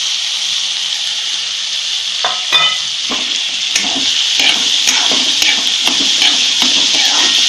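Soaked chana dal being sautéed and stirred in a pan, a steady close sizzle with scraping spoon strokes and clinks throughout, no talking.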